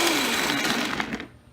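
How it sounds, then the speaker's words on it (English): A blender runs on high speed, whirring loudly as it blends vegan cheese ingredients for an artisan pizza, then winds down and stops near the end. "I'm gonna blend it on high until everything is mixed through."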